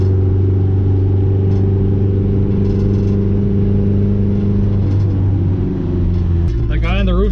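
A quad-turbo Honda Civic engine holds a loud, steady drone during a quick pull under boost, its tone shifting slightly near the end, close and continuous with no pauses.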